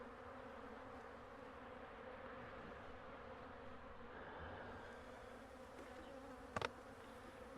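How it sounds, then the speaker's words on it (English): Steady insect buzzing hums throughout, a low droning of bees around a hive, with a brief sharp buzz burst near the end. "There's two bees fighting."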